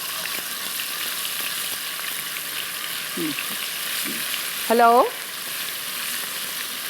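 Garlic and ginger paste frying in a pan while a Chicken Kofta Curry is made, giving a steady close sizzle throughout, with a few faint clinks and a brief spoken greeting over it.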